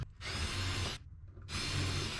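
A power drill bores rivet holes in an aircraft fuselage during a kit build, stepping up through bit sizes. There are two loud, steady high whining bursts about a second each, separated by a brief pause.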